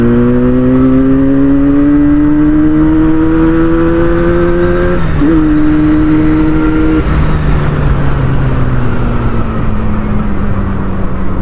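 A 1983 Yamaha RD 350 twin-cylinder two-stroke motorcycle revs loud and close on a long open stretch of road. The engine note climbs steadily through the gears, with brief dips at each shift, and no one talks.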